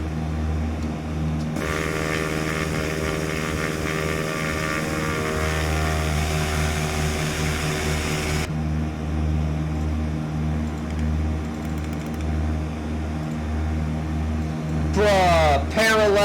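Simulated aircraft engine in X-Plane 11 during a takeoff roll from Portland, a steady droning hum with tonal bands that shifts in pitch partway through, loud and continuous throughout.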